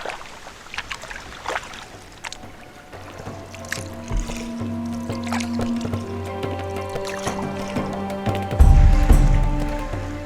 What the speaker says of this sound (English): get out and heave the boat over top of the bank